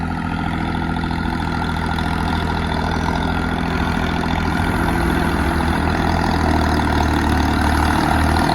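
Two tractors' heavy engines run continuously while pulling out a trailer, a deep steady rumble with mechanical clatter, loud and close throughout, with no voices.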